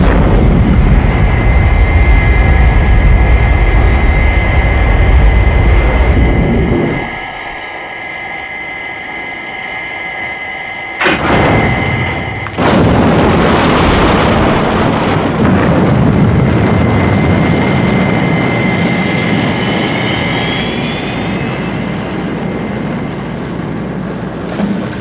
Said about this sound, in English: FAB, launching Thunderbird 4.